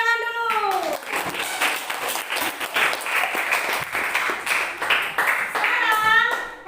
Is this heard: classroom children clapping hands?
yes